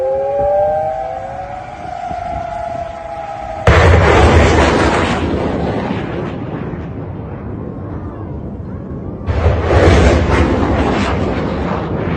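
Iranian missile impact explosions in Qatar news footage: after a rising siren-like tone, a loud sudden blast erupts and rumbles down, followed later by a second heavy explosion, with no talk over it.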